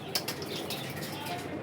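Pigeons flap their wings in short bursts nearby, with a few faint coos and chirps over a soft background hum.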